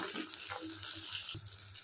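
Dried chilies and garlic sizzle in hot oil for a chili pickle as a spoon stirs them. Soft scrapes and small clinks sound over a steady, close frying hiss.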